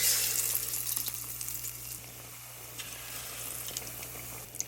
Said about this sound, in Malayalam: ഒരു രണ്ട് മിനിറ്റ് ഇങ്ങനെ നന്നായിട്ട് ഇത് കിടന്ന് ഫ്രൈ ആവട്ടെ